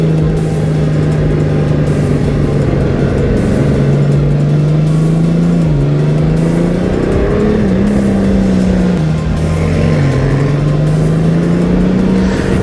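A 2022 Honda Gold Wing 1800 DCT motorcycle under way, its engine a loud steady drone with pitch stepping and wavering as the dual-clutch transmission shifts and downshifts, wind rush constant over the riding noise.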